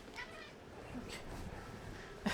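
Pet cat meowing faintly indoors, a short soft meow followed by a brief louder chirp near the end, over quiet room hiss.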